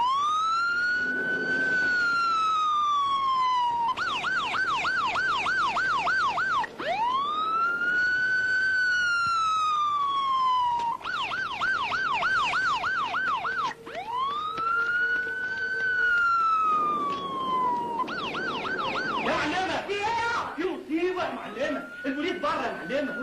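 Wailing ambulance siren from an Arabic film scene, rising and falling sweeps alternating with fast yelping warble bursts, loud and continuous across the whole stretch, with brief talk-like sounds near the end.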